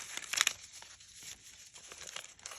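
Paper being handled and folded while making a paper snowflake, soft close crinkles and rustles in short bursts, quiet and without talk.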